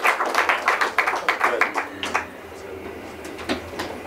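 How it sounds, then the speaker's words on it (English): An audience at a lecture on the American founding breaks into applause: dense, close clapping that tapers off into scattered claps. "Warm hand of applause."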